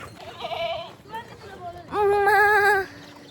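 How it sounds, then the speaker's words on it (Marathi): A goat bleats twice, a short wavering cry and then a longer, louder one, with faint voices and rustling around it. "ही पण बकरी आहे."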